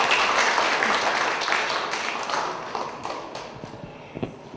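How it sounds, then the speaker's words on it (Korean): An audience applauds a high-school student who has just played a song at a weekly book talk event in Hongdae; the clapping is full at first, then thins and fades, ending in a few scattered claps. "우리 김수정 학생에게 박수 다시 한번 부탁드립니다"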